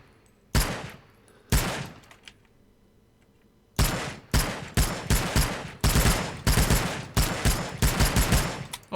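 Rifle shots ring out in the Vietnam War shooter game Rising Storm 2: Vietnam. Two isolated cracks come first, then after a pause a rapid run of loud, sharp reports fires in quick succession, close and unaccompanied by speech.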